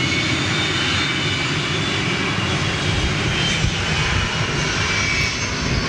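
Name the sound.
Boeing 757 with Rolls-Royce RB211 engines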